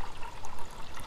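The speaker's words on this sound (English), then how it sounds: "I'm going to go ahead and fill up my canteen cup." Water pours from a Pathfinder canteen into a metal canteen cup, a light, bubbling trickle with gurgling pulses, close and fairly quiet.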